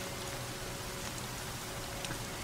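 Steady rain hiss in the Horizon Zero Dawn video game, an even, dense patter of raindrops filling the short stretch at a fairly quiet, constant level with no voices.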